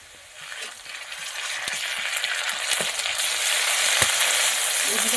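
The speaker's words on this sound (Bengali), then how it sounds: "এবার এর মধ্যে আদা রসুন পেস্ট দিয়ে দেবো।" Ginger garlic paste fries with onions in hot oil, a close, steady sizzle that slowly builds louder, with occasional stirring scrapes and pops.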